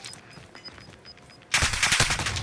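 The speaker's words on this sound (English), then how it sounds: "I hear gunshots everywhere." Gunfire in the video game Warzone: faint scattered shots and a distant rapid burst at first, then a sudden loud close burst of automatic fire with rapid repeated cracks.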